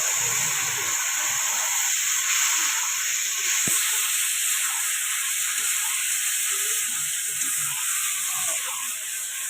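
Taro leaves drop into a pan where fish has been lightly fried, giving a steady loud hiss and sizzle of hot oil that carries on without a break, with a brief clatter partway through.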